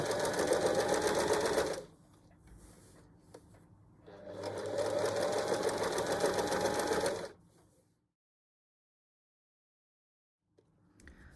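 A sewing machine stitches a cushion cover seam in two rapid, steady bursts of about two and three seconds, separated by a pause, followed by near silence.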